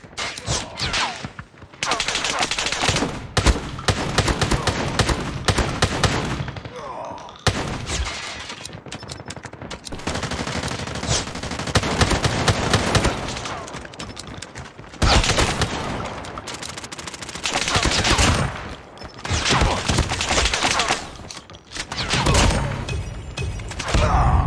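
Dense Call of Duty gunfire in a gun-game match, with rapid automatic bursts and fusillades rattling almost nonstop, loud and close, broken by brief lulls before the shooting resumes.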